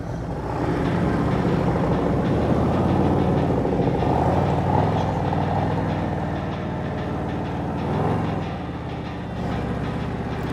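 A 2024 Harley-Davidson Road Glide with TAB slip-on exhaust rumbles close and loud in a deep, steady idle, swelling slightly once or twice as the throttle is blipped.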